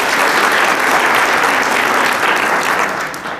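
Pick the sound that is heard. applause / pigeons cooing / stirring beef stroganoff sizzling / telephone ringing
applause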